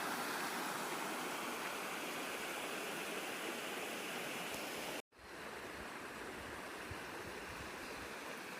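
The Arroyo Seco river rushes beside a bridge in a steady, broadband wash of flowing water, heard continuously with a brief dropout partway through and no voices.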